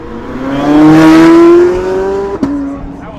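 A car engine revs up sharply at half throttle, its pitch climbing and then easing off, with a brief crack near the end.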